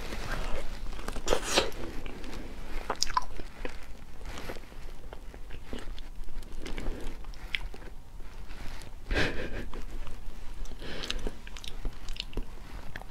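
Someone bites into and chews soft durian flesh close to the microphone, wet smacking mouth sounds with a few sharper bites spread over the stretch, no talking.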